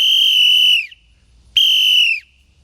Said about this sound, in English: invest in a whistle